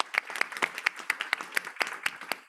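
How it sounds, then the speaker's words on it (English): A small group claps for a speaker at a data forum event, giving steady, evenly spaced handclaps that sound fairly soft and close. "Maybe we give her an applause"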